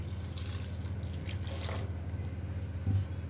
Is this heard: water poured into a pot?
yes